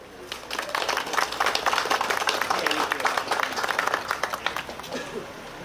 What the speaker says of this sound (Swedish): Vi hälsar Olof med en stor applåd